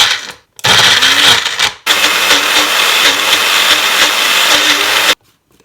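An electric mixer grinder whirs loudly while grinding dry ginger pieces without water, in two close, steady bursts separated by a short pause, then stopping.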